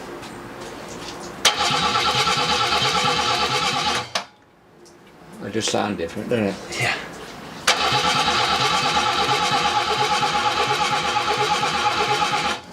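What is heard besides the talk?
old barn find BMW engine cranking, trying to start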